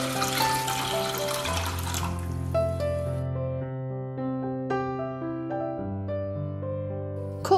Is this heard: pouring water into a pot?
yes